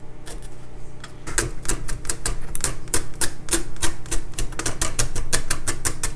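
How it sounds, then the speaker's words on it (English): A knife finely chops vegetables for guacamole on a cutting board, with rapid, close, crisp taps in a steady, slightly uneven rhythm that run on for several seconds. "I like to fine chop most of these items. So just gonna chop that up."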